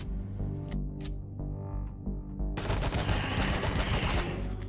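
Sustained gunfire aimed at abominations in the space survival game Empyrion (Reforged Eden 2 scenario), a dense, loud rattle of rapid shots that breaks out partway through after quieter tonal game ambience, with no voices.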